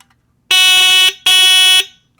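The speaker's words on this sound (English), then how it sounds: "we have a little Merlite fire alarm here" A small Merlite fire alarm fitted with a knockoff Delta Alarm squealer gives two loud, shrill electronic blasts, each about half a second long, separated by a brief gap.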